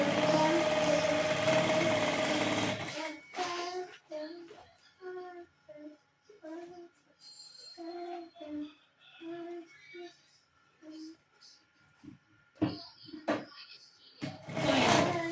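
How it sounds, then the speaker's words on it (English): A sewing machine stitches an African print tote bag in loud runs at the start and end, with someone talking in the quieter middle stretch between them. "Then start sewing."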